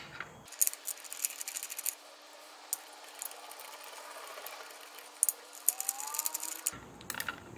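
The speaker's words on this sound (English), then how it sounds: "And now we'll put our screws back in." 8mm screws going back into a car starter's mounting holes by hand, with faint clicking, ratcheting and rubbing sounds in scattered small bursts, quiet and close with no talking.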